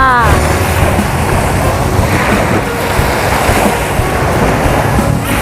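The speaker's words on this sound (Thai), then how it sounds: "ทะเลบางแสนจ้า" Loud, continuous roar of sea waves washing onto Bang Saen beach in Thailand under an overcast sky, with heavy wind buffeting the microphone.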